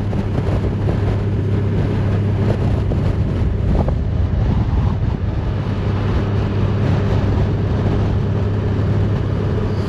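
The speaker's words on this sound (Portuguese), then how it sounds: "O vento é que está muito, muito forte." Strong wind on the road from Madrid to Zaragoza in Spain, a loud, constant buffeting roar over a low vehicle rumble, with no voices.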